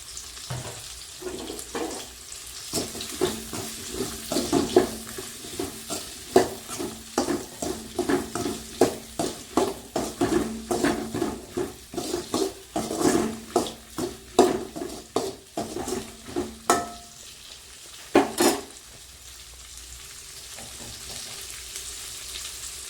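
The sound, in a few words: curry leaves sizzling and stirred in frying mutton gravy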